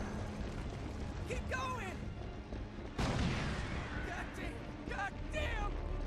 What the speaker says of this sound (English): Rockets incoming!